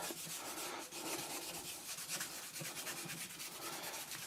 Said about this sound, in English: you can rub that Tru Oil into the grain